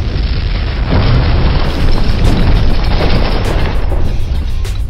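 A loud, sustained explosive boom as a target is destroyed in a bombing run over a scrap-strewn alley, a dense rumbling blast that rolls on without a break for about five seconds.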